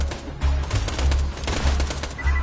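Pistol gunfire in the virtual reality game Borderlands 2 VR, a rapid string of loud, punchy shots with booming low thuds, close and continuous, with no voices.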